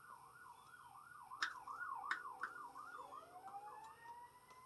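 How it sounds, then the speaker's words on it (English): A fire truck or ambulance siren wails up and down as it goes by outside, faint and distant as heard from inside a home kitchen, with a few light clinks nearby. "Fire truck or an ambulance going by out there"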